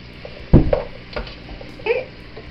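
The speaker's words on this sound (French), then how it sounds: "Alors, je remue." Blanquette de veau being stirred in a pan: a sharp scrape and clatter of the spoon against the pan, followed by a few lighter stirring knocks over a soft sizzle, close by.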